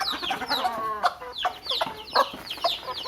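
Several native country chickens cluck and squawk close by in quick, overlapping bursts, with no talking.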